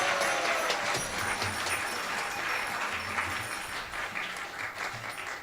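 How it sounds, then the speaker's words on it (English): A crowd of worshippers applauds at a Mother's Day celebration during a Sunday Feast at a temple, a steady dense clapping that carries on for several seconds with a faint low hum beneath it. "We also would like to give a big round of applause"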